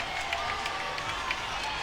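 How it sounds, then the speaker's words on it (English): Steady applause and crowd noise from the Oregon State team at a gymnastics meet against LSU, continuous and moderately loud with a dense clapping texture. "Even Oregon State is applauding."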